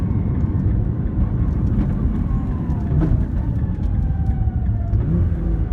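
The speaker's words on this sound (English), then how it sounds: "Here comes third gear, it's going to pre-select fourth and fifth" Nissan R35 GT-R fitted with a prototype dogbox, its engine droning loudly and steadily as it climbs through the gears, with faint clunks from the shifts and no voices.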